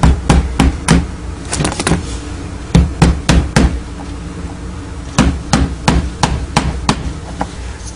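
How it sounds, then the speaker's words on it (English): Tiny brads are hammered into a small wooden kids' toy figure, sharp close taps falling in quick bursts of two to four strikes separated by short pauses. "we'll attach those 1 5/8 up from the bottom, and we'll use tiny brads"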